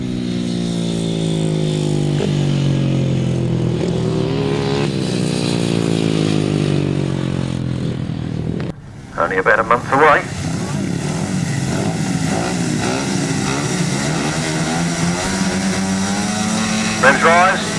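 Grasstrack racing motorcycles rev hard and then roar away together, a loud continuous engine drone rising in pitch, with a brief dip before renewed racing; a commentator talks over it.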